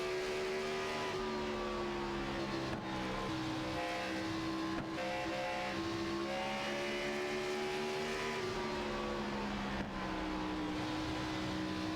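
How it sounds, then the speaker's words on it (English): Race cars lapping Bristol in a racing video game, a steady, continuous engine drone with shifting pitch as several cars run together, with no voices over it. "These 4 cars wasting no time trying to lay down some quick laps."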